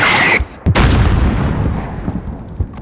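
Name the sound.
mortar explosion in Call of Duty: Modern Warfare video game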